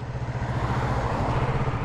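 A Kawasaki Z650RS 2022 motorcycle running close by, a steady engine rumble with a pulsing low throb that never drops into silence.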